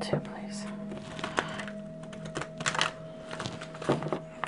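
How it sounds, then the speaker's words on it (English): Soft papery riffling and shuffling of tarot cards, with faint whispery rustles and a steady low hum underneath, close by. "Gotta give this one more shuffle too, please."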